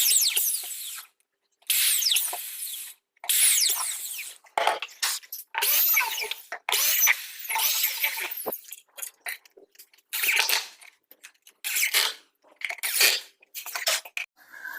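A power drill whirs in repeated short bursts while driving screws to mount a shelf on a wall, each high-pitched spin lasting a second or two, separated by brief silences, close and fairly loud.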